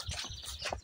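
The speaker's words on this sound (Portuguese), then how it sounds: "Bom de ouvir o passarinho cantando." A small thrush-like songbird sings in woods around a rural house, giving a few faint, quick chirps and whistles across the short stretch, heard alone.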